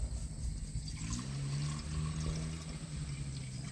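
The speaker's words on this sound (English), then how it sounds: "Now I guess we're just going to put the vinegar in this thing." Vinegar being poured into a pot in a home kitchen, for making pickle brine, a steady liquid gurgle and splash running close and fairly quiet for several seconds without speech.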